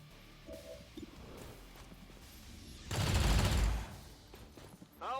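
A short, loud burst of SMG fire in XCOM 2 with the Long War of the Chosen mod, a rattling volley of about a second amid quieter game sounds.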